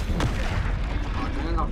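A Confringo fire spell explodes in Hogwarts Legacy with a loud, sharp blast at the start that leaves a dense, rumbling combat roar in its wake, while a voice shouts over the din.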